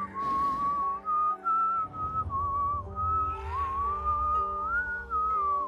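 A cartoon character whistles a wavering, sliding tune, loud and close, phrased in several long breaths with brief pauses between them, and no talk over it.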